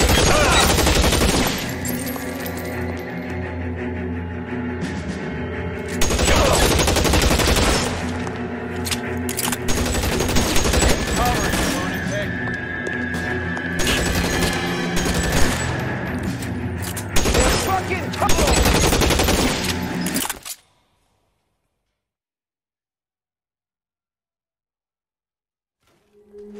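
Gunfire in the L.A. Noire video game rattles out in dense bursts, shots and rapid volleys mixed with yelling voices for about twenty seconds before cutting off abruptly into silence.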